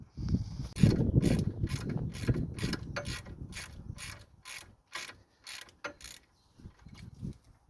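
A ratchet wrench clicks on the front upper shock mount bolts of a 2012 Renault Megane 3, a rhythmic series of sharp, close ratcheting strokes that start with some clunking and slow toward the end.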